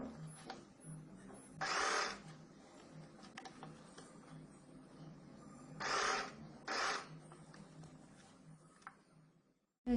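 A sewing machine stitches skirt fabric and lining in several short, faint bursts of fast whirring, separated by quiet pauses.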